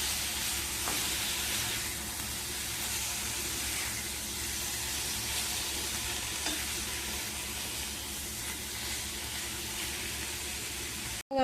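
Steady, close sizzling of bitter gourd frying in a pan, a continuous bright hiss with occasional faint stirring clicks, no talking.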